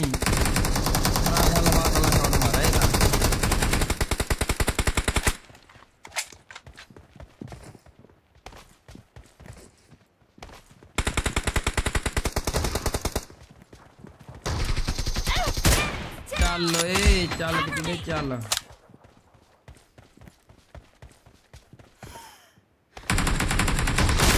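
Gunfire in the video game PUBG, loud bursts of rapid automatic shots in several separate stretches with quieter gaps and faint movement sounds between them.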